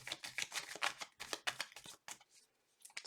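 Tarot cards being shuffled up close, quiet crisp riffling bursts in a quick irregular rhythm, pausing briefly near the end before one more flick, with no talking.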